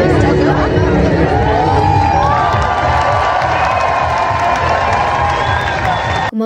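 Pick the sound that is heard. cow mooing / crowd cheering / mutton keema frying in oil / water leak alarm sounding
crowd cheering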